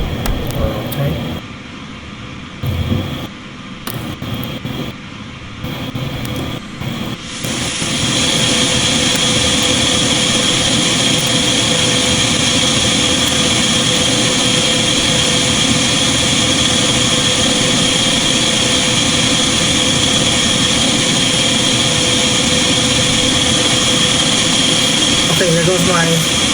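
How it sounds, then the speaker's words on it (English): Jet airliner engines of a DC-9 in Microsoft Flight Simulator 2020, a steady loud whine and roar that swells after a few seconds of quieter, broken engine noise and then holds constant. "there goes my DC-9, carrying all these Canvasbacks on board."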